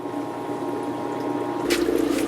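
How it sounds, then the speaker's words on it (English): Water runs steadily into a spawning tank set inside a 5 gallon aquarium, a constant close trickle and gurgle that swells slightly toward the end. "I'm going to let the water fill up until it is almost to the rim of the spawning tank inside"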